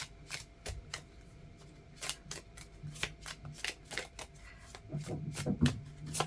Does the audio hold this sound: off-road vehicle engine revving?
no